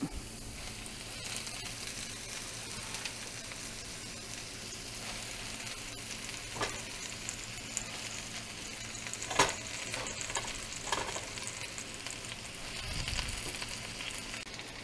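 Chijimisai and Swiss chard leaves cook down in a pan, giving a steady, moderate sizzle with occasional stirring scrapes and light clatter over about fifteen seconds, with no voices.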